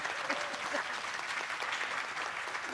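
Studio audience applause on the Spanish-language TV talk show Nexos+1, a steady crowd of clapping hands, fairly distant and even throughout, with a faint voice briefly audible beneath it.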